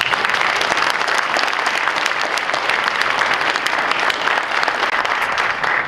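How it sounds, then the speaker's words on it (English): Steady, dense applause from the audience at an 8th grade school band concert fills the room loudly and evenly for the whole stretch, with no voices standing out. "Can we give them a big round of applause?"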